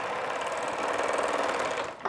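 A sewing machine stitches goatskin wine bags, giving off a fast, steady mechanical whir at close range that cuts off abruptly after about two seconds.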